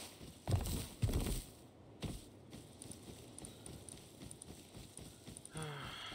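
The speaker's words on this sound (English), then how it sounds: "there's a fucking horse right here" Horse hooves clip-clopping in a multiplayer survival video game, a steady run of light hoof falls under faint background game noise, with a couple of louder thumps near the start and no speech over it.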